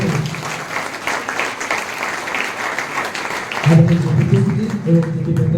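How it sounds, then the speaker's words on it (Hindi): Hearty applause from an audience welcoming the chief guest at the inauguration of a free PSC and Vyapam exam coaching batch, steady clapping throughout with a voice speaking over the later part. "जोरदार तालियां बजाइए।"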